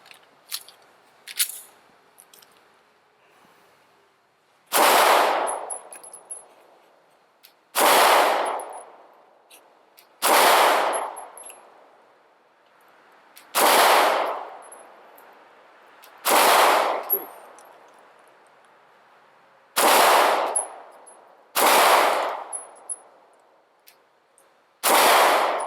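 Walther PPS 9mm pistol shots fired fast in a combat-style string: several loud, sharp reports with echoing tails in a steady rhythm, preceded by a few fainter clicks and handling noises.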